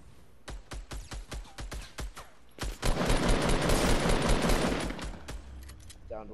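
Fortnite gunfire rings out as a string of sharp separate shots, then builds into a loud, sustained burst of rapid fire that fades out near the end.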